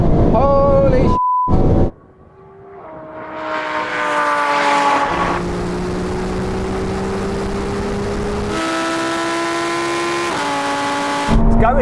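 Porsche, Lamborghini and Ferrari supercars launching in a half-mile drag race, their engines roaring loudly and climbing in pitch through several gear shifts, with a brief drop near the start and wind buffeting the microphone.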